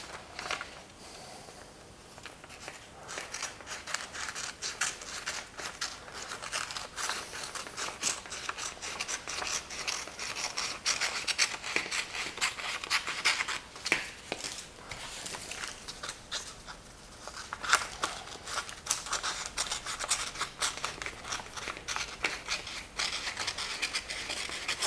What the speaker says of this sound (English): use a pair of paper scissors and we cut that out